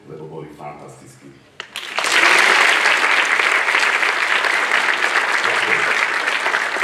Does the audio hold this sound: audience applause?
yes